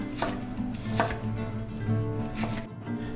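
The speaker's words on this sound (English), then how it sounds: "just gonna go ahead and dice up these onions" Knife chopping through onions on a cutting board for a Moroccan beef stew, a steady series of close, crisp chops repeating about every half second with no talking.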